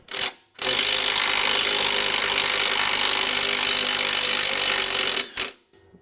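A powered tool presses a bushing out of a '92 Ford Mustang Fox Body coupe, a loud continuous grinding hammer-like roar running several seconds alone, starting abruptly and cutting off with a short burst after.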